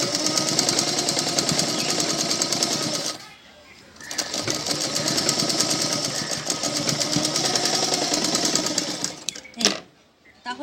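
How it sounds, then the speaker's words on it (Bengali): A sewing machine stitches two fabric parts together in a full circle, a fast steady mechanical chatter running close and loud, pausing for about a second midway and stopping again near the end. "পুরো গোল করে দুটো পার্ট একসাথে সেলাই করতে হবে"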